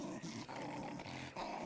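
A dog-like creature in the VR brawler Gorn growls low and rough, snarling steadily for almost two seconds amid dense, clattering game noise.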